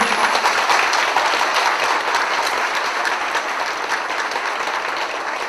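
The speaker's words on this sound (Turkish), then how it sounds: "Sayın Harun Özcan'a bir alkış rica ediyorum" Audience applause at a Turkish political rally in Çanakkale for an independent parliamentary candidate, a thick continuous wash of many people clapping, loud and steady throughout.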